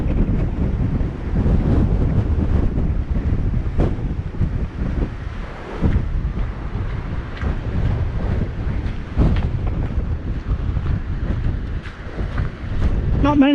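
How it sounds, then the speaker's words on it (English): Strong storm wind buffets a camera microphone beside a river, a loud continuous roar with gusty swells and rumbling bursts throughout, with occasional faint voice sounds under it. "It is bloody windy."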